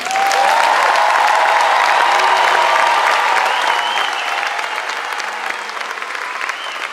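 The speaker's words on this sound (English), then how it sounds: "could we please have another round of applause to congratulate the graduating class of" A large crowd applauds the graduating class of 2019 at the Horseheads High School graduation ceremony: loud, dense, sustained clapping that holds steady for several seconds, then gradually thins and softens toward the end.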